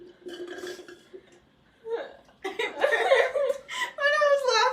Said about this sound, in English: a burp came up